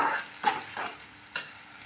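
Ground roasted masala for mango curry sautéed in a pan, with a soft background sizzle and three brief scraping strokes of a spoon, close and fairly quiet, no speech.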